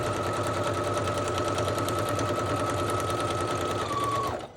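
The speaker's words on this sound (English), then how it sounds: "I'm going to do my best to just sew down the center" A sewing machine stitches down the center of a kantha quilt journal cover, a loud, steady rapid mechanical chatter running nearly the whole time before stopping abruptly at the end.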